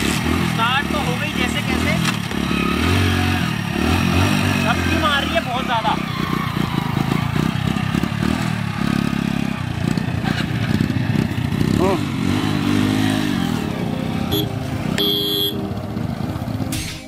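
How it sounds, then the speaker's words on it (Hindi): A motorcycle engine running on a diesel and petrol mix drones loudly and roughly during a road ride, with uneven revs, a brief stutter and some horn toots nearby, while someone talks over it. "बाइक बंद हो जाएगी, बट बंद नहीं होती, बस झपक के वापस चलने लगती है।"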